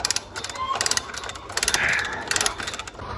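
Ratchet cranked to draw a snapped feeder chain back together on a Fendt farm machine, giving bursts of quick metallic clicking in short repeated runs against low background noise.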